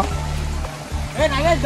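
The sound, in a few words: small waterfall, flowing stream water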